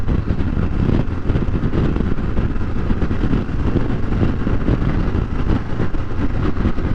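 Steady, loud rumble and wind roar from a 2023 Harley-Davidson Pan America Special motorcycle cruising in 4th gear at about 43 mph, continuous broadband noise with no talk.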